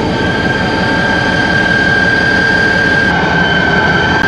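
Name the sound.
diesel local train GMU 34712 departing station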